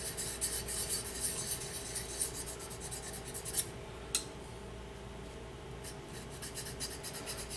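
A credit-card-style diamond sharpener rubs flat against the bevel of a woodturning tool, making a soft, steady rasping scrape in quick repeated strokes, close and fairly quiet with no talk.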